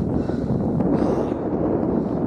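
Strong gusting wind on a hillside buffeting the microphone with a constant, loud low roar and rumble over about two seconds, with no voices.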